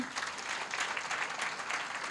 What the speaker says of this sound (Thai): ปรบมือให้นิดนึงนะคะ